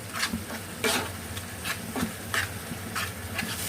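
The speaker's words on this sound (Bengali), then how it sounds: "এবার সব মশলা নেড়ে চেড়ে খুব ভালো করে কষিয়ে নেব।" A spoon scrapes and stirs spices frying in oil for a pangas fish curry, with rhythmic scraping strokes over a soft continuous sizzle, close and moderately quiet.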